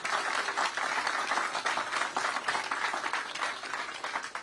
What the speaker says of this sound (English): please give a round of applause for Ron, the law enforcement, everybody that was there on Perry